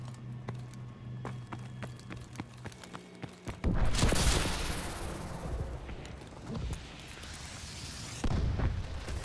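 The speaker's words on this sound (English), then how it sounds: "Missile strikes." Missile strike explosions in a multiplayer video game battle, heard as a loud booming blast that rolls on into sustained rumbling fire, with a second strong burst near the end over distant crackling gunfire.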